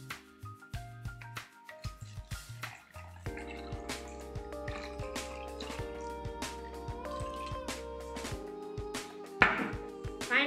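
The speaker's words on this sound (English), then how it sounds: "Now let's add some water" Water poured onto a few beans in a small container for a seed germination experiment, faint close drips and trickling with light knocks against the container.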